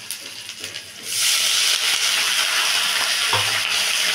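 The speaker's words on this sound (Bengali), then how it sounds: "দেখো জলটা ফুটে উঠেছে" Water with chopped tomato heats up in a pan for egg curry, starting with soft bubbling that swells after a second into a loud, steady sizzling hiss, with no talking.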